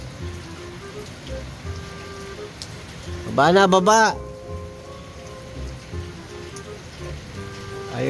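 Heavy rain drumming steadily outdoors during a pigeon-racing session, a constant hiss throughout, with a short voice calling out briefly in the middle.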